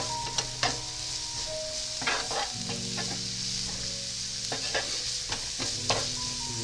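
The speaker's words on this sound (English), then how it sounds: "Want to hear that sizzle?" Carrots, minced onions and parsley sizzle steadily in a frying pan, a continuous hiss broken by several scraping stirs, close and moderately loud with no talking.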